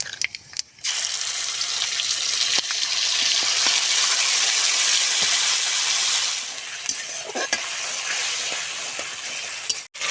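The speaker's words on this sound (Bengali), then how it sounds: "কড়াতে দিয়ে দেবো সরষের তেল, পাতা একটা, তেজপাতা 2 টুকরো করা, 5 ফোড়ন, কেটে রাখা মশলা" Whole spices, bay leaf and five-spice seeds hit hot mustard oil in a wok and sizzle loudly and steadily, close by, fading slightly toward the end with a few faint clinks.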